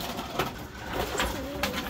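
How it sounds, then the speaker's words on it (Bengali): Pigeons in a pigeon loft setup coo softly and repeatedly, low throaty calls rising and falling over a steady background hiss with no talking. "আপাতত প্রথম দেওয়া হয়েছে কিছু কবুতর এখানে"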